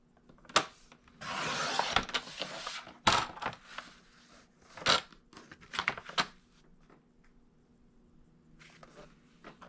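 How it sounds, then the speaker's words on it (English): Scissors cutting a sheet of double-sided craft paper into long strips: a run of crisp snips and a longer rustling slice, close and clear, with pauses between cuts and no talk. "I am just going to cut it down into 3 by 12 inch strips."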